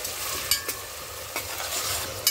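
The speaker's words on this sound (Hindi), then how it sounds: "तेल गर्म होने पे ऐड कर देंगे हम दो प्याज" Two chopped onions sizzle in hot oil in a pot, a constant crackling hiss broken by a few sharp stirring scrapes, close and even, with no speech.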